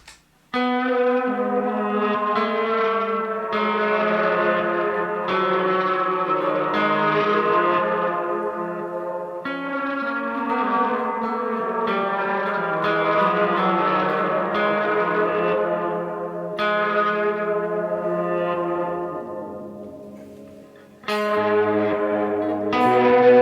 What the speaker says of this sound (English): Let's try some of that with the BFR reverb on the R1